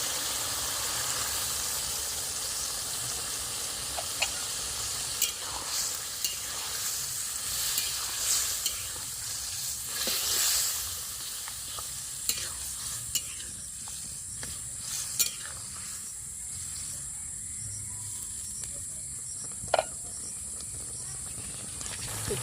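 Taro greens simmer and sizzle in a pan as spices are stirred in, a continuous hissing fry broken by intermittent utensil scrapes and taps, with faint voice underneath at times.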